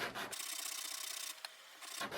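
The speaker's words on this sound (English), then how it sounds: "we're just going to put the sandpaper flat on the table and then sand against the end." A small wooden part rubbed back and forth on sandpaper laid flat on a table, one long steady gritty rasping stroke framed by shorter scrapes, close and quiet.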